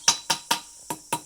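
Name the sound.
planishing hammer denting pewter coathook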